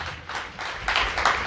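A short burst of audience applause fills a hall at the first congress of Martinique's firefighters, with steady dense clapping that swells slightly toward the end.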